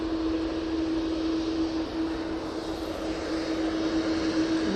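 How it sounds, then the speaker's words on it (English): An Aer Lingus airliner comes in to touch down at Manchester Airport, its engines a loud, steady roar with a sustained tonal hum throughout, no voices over it. "Aer Lingus about to touch down"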